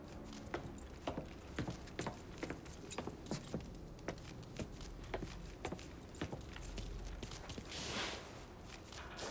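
Keys jangle and clink in a series of sharp metallic taps as they are picked up in the video game Mafia III, with a soft rush of ambience underneath.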